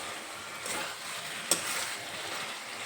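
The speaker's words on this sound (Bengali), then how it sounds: "আবারও একটু নেড়ে চেড়ে নেব।" Kakrol curry being stirred in a frying pan, a soft steady sizzle with faint scraping strokes and one sharp clink of the utensil against the pan partway through, close and fairly quiet.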